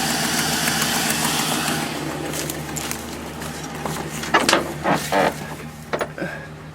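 Chevy 5.3 LS V8 running after a VATS security bypass and starter-solenoid jump, a steady idle hum under faint clicks and short mechanical clatters that grow more frequent toward the end.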